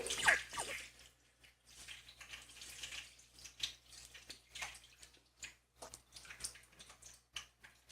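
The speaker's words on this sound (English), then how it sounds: "So I'm just going to pour this now into my cheesecloth just to strain it out." Oil is poured through cheesecloth to strain it, producing soft, irregular drips and trickles that come in quiet bursts and pauses over several seconds, close by with no voices.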